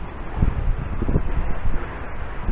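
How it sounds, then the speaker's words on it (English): Gusty wind in a New York City blizzard with snow pellets, buffeting the microphone in a steady, rough low roar that swells and eases for a few seconds, with no voices. "When the bloody wind goes at your face."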